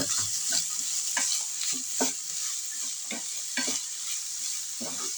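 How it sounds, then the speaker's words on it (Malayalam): Chopped churuli greens being stirred with salt in a pan, a spoon scraping and turning them in repeated strokes over a steady, soft sizzle, close and alone with no talk. "ഉപ്പ് ഇട്ടിട്ട് നല്ലപോലെ ഇളക്കണം"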